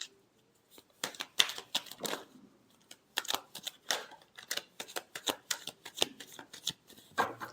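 Tarot cards are shuffled by hand in quick, irregular bursts of soft riffling and flicking, close and fairly quiet, with brief pauses between runs.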